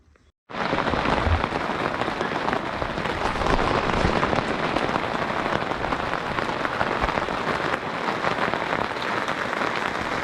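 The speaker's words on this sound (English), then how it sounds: "As you can see, it's raining, and it's been raining almost all morning." Rain pours steadily after a brief quiet start, a dense, continuous patter on surfaces at a winter campsite, loud and close with no voices.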